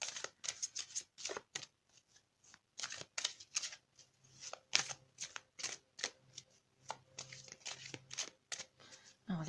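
Tarot cards riffled and shuffled in quick repeated bursts, crisp and close, with short pauses between runs and no talk over them.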